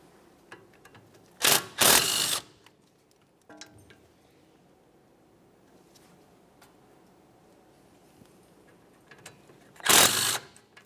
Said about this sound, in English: we'll continue on to removing our 2 flex hose mounting bolts that hold the flex hose bracket to the steering knuckle